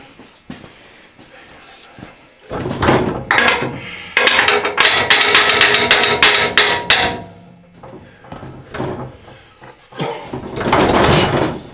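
Series of sharp metallic hammer blows on engine mounts of a Cub Cadet 582 pulling tractor, several quick strikes in bursts, loud and close, separated by short pauses with some clanking between.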